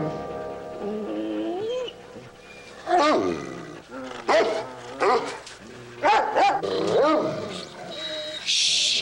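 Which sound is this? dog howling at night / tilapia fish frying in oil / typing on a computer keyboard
dog howling at night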